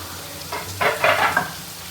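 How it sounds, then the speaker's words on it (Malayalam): Finely chopped onion, curry leaves and green chilli sautéing in a pan, a brief burst of sizzling and stirring rising midway, fairly quiet, no talking. "ഉള്ളിക്ക് ആവശ്യമായിട്ടുള്ള ഉപ്പ് ചേർത്ത് കൊടുക്കാം എന്നിട്ടിതൊന്ന് വരക്കിയെടുക്കാം"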